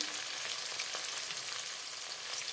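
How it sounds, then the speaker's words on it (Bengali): Chopped onions fry with a pinch of salt in oil, giving a steady, close, even sizzle with no breaks and no voices. "একটা পেঁয়াজ কুচিয়ে নিয়েছি পেঁয়াজগুলো একটু লাল হয়ে আসবে"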